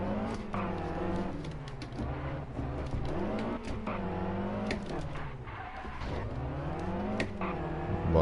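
Loud rally car engine in Sébastien Loeb Rally Evo on a Monte Carlo stage, revving hard and fluctuating with tire skids and squeals as the car understeers through corners.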